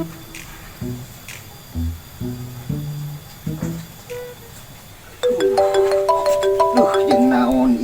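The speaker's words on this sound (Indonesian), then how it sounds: "Oh, telepon." A phone ringtone starts playing partway through, a melodic electronic tune of repeating notes, loud and close, after sparse background noises and brief sounds.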